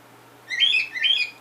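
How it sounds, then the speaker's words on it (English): A bird calls noisily in a home setting, two bright chirping bursts in quick succession, fairly close and clear with no talk over them. "God, that bird needs to shut up."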